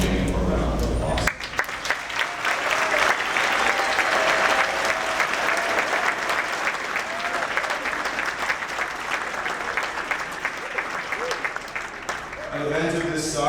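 A graduating class of 2023 receives a full round of applause at a school graduation ceremony. Loud, dense crowd clapping swells in after a brief pause and carries on steadily, then cuts off near the end as a voice returns.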